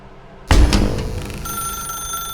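An old-style telephone in the video game The Stanley Parable rings loudly and close, with a sharp metallic onset followed by a steady bell trill that continues to the end.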